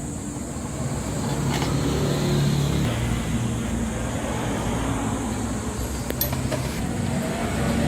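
A Rusi Royal motorcycle with a worn gearbox bearing runs steadily, its engine droning in a constant low hum with a rough mechanical rattle and a few faint metallic clinks.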